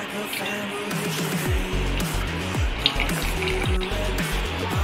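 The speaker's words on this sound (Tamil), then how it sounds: "இப்போ கொஞ்சம் புளி கலந்து வச்சிருக்கேன் அந்த புளி கரைசல இதல" Tamarind water pours into a simmering dried fish curry, a continuous bubbling gurgle with a low liquid rush, close and steady, with a small clink partway through.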